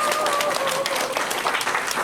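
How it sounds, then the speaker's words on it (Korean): Audience at a church service applauding, a short burst of dense, steady clapping throughout, with a faint voice audible at the beginning. "이런 박수 나와야 되는 거 아니야?"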